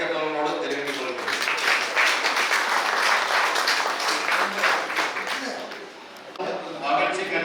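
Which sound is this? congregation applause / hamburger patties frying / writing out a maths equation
congregation applause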